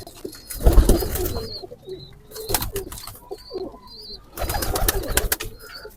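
Rocky's daughter, a khatang pigeon of red coloring, coos softly in repeated low bursts amid wing flutters, shuffling and scattered bird chirps nearby.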